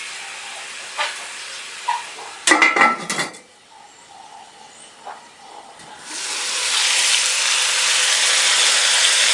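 Vegetables frying in a pan for a veggie stew with ginger and whole chili: a clatter of utensils and pan, then a broad, steady hiss of frying swelling up and holding loud to the end.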